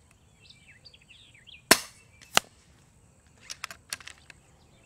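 An FX Crown .22 air rifle fires two sharp, fairly quiet cracks in quick succession outdoors, with birds chirping faintly and a few lighter clicks afterward.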